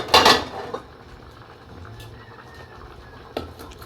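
A lid clanks onto a cooking pot of simmering dinengdeng vegetables with eggplant: a sharp metallic clatter at the start, then a quiet kitchen, and a second lighter knock near the end.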